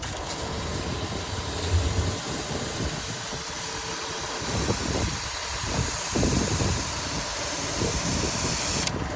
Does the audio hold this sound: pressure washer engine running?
yes